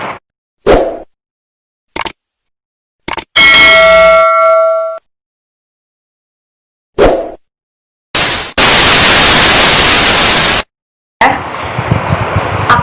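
A notification bell chime, a set of separate synthetic effects: short dings and plops, a ringing bell tone with a long decaying tail, and a broad whooshing burst, each standing alone.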